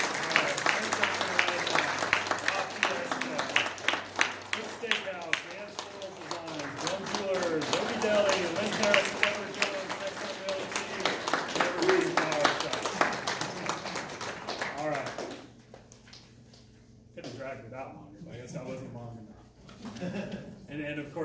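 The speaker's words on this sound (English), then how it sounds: "Let's keep the applause going." A health care event audience applauds steadily for about fifteen seconds, with a voice speaking over the clapping, then the applause drops away and talk continues.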